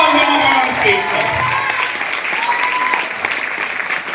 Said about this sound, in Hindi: एक बार जोरदार तालियों के साथ let's call him on stage sir